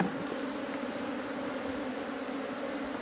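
Bees buzzing around an opened beehive during beekeeping in Mt Elgon National Park, Uganda, a dense, continuous close-up drone of many insects at steady loudness with no talk.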